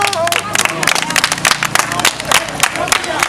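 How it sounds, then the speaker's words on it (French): Young people in Didier 2, Benin, applaud an NGO at a free mask handout: brisk, dense clapping from a nearby crowd, mixed with voices and shouts. "j'aimerais que tous les jeunes de Didier 2 applaudissent pour l'ONG FI Bénin"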